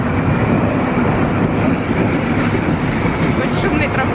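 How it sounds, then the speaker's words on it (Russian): A very noisy tram rumbles past close by, a loud continuous roar with rattling wheel and track noise filling the whole stretch. "Очень шумный трамвай."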